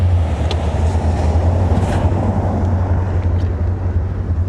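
1985 Chevy Corvette with non-stock mufflers idling on its own after a rescue from a Florida swamp, a steady low engine hum with a constant droning tone, close and unbroken.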